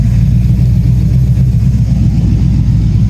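A 6.0 LS V8 idles steadily in an all-wheel-drive OBS GMC truck, a loud, close, continuous low rumble with a slightly uneven tune and no talk over it.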